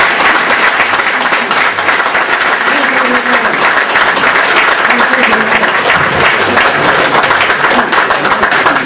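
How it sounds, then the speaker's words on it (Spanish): Loud, sustained applause from a large crowd at a school teacher-recognition ceremony, dense and continuous clapping close by for nearly nine seconds with a faint crowd murmur underneath. "Bien merecidos esos aplausos para nuestra profesora Gladys Valdeón de la Cruz"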